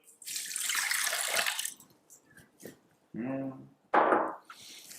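Water poured from a tap into soy flour for donut dough, a splashing gush in short bursts separated by pauses and small knocks, with a brief voiced sound partway through.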